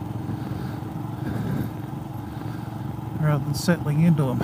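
A Royal Enfield Himalayan motorcycle with a sidecar rides along a bumpy road near Port Gawler, South Australia, its engine rumbling steadily underneath close, continuous spoken narration.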